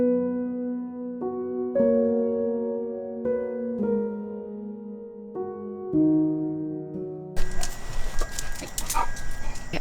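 A pet dog gives a run of drawn-out, pitched whines and whimpers with harmonics, fairly close and steady for most of the stretch, then a burst of broadband noisy rustling at the end; no talking.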